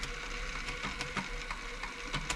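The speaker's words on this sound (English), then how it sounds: "it's a tapping noise, is your step motor stepping through the forwards and backwards modes to create the stretch stitch" An Elna Club Computer 500 sewing machine's step motor tapping as it shifts through forward and backward stitch modes for a stretch stitch, a quiet run of quick, irregular mechanical clicks over a low hum, with no talk.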